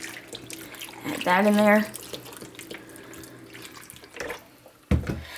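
Beef broth glugs from a big box carton into a crock pot for beef stew, a short steady pour lasting under a second, with someone talking before and after.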